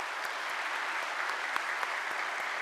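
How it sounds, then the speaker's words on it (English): Audience applause at a university assembly, steady and dense clapping from a large crowd filling the whole stretch with a few sharper individual claps standing out. "Let's all give them a round of applause."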